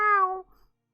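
A human voice imitates a cat's meow, one short tonal cry that slides down and fades, heard alone and fairly close.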